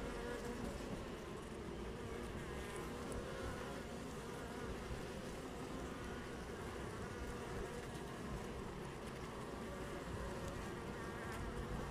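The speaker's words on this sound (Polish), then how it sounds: "Patrzcie, jak tutaj się te pszczółki chcą skontaktować." A dense, continuous drone of many honeybees buzzing up close, steady and even with no talking.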